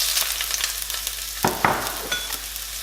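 Ginger sizzles in a couple of tablespoons of very hot oil for a stir-fry, a steady close frying crackle with a few louder bursts and stirring scrapes partway through.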